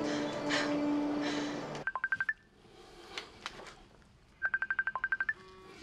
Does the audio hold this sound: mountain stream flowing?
no